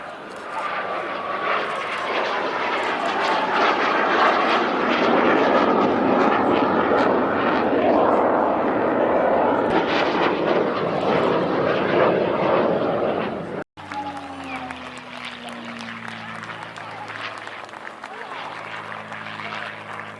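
A Huey helicopter at an airshow passes close by with a loud, continuous engine roar, then cuts sharply to a lower, steadier droning whine with tonal harmonics.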